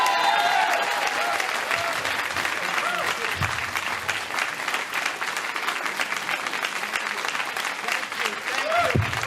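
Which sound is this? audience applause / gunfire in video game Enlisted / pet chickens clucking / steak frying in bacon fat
audience applause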